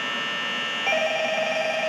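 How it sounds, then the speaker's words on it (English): A telephone rings in an indoor scene with a sleepover, heard as a steady electronic ringing tone that starts partway through and holds level, alone with no talk. "Oh, there's a phone ringing."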